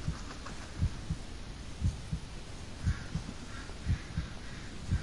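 Heartbeat effect in the Blair Witch horror video game, a low thumping pulse repeating about once per second in doubled beats over a steady dark ambient hum, with no talk.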